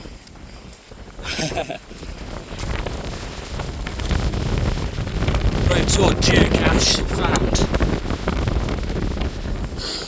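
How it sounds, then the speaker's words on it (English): Gusty wind roars and buffets the microphone on a Dartmoor hike, swelling louder over several seconds, with a person speaking briefly near the start. "As you can see, it's really windy."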